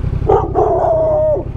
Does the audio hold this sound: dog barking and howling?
yes